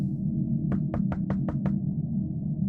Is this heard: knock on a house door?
yes